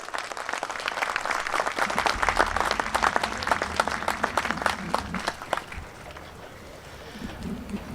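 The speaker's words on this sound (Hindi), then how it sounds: "आपकी तालियों के गूंज में हमारा और आपका भाई अंसर महमूद गोंदल।" Audience applause at an AGM gathering, a dense burst of clapping that stays loud for several seconds and then thins out toward the end.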